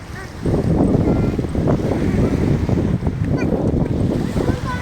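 Steady rushing surf with waves breaking continuously close by, mixed with wind buffeting the microphone.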